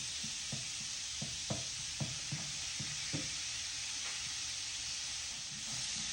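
Garlic in a little oil sizzles in a pan next to seared scallops and shrimp, a soft, steady hiss with a run of light, evenly spaced taps and clinks from stirring near the start.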